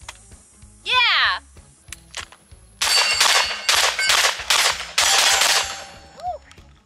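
A rapid string of loud shotgun blasts fired outdoors, close and booming in a quick, uneven rhythm, with a brief metallic ring and excited voices in between.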